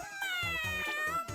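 A cartoon cat gives a single drawn-out, wavering meow, loud and close, with a faint voice underneath.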